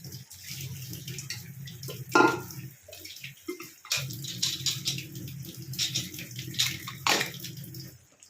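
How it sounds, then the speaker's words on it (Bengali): A pressure cooker pot is rinsed under a running kitchen tap, with a steady stream of water splashing and pattering in the vessel, broken by brief clanks and pauses as the pot is handled. "সব জিনিসই আমার ধোয়া থাকে, কিন্তু তারপরেও আমি যখন ইউজ করি তার আগে একবার ধুয়ে নিই।"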